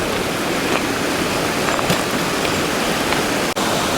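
Bridal Veil Falls near Vancouver pours as a steady, even wash of falling water, heard from the forest trail at moderate distance, continuous and unbroken with no voices.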